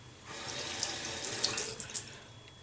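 Tap water running briefly to wet a shaving brush, a soft close splashing stream with a few brighter spatters as the bristles catch it.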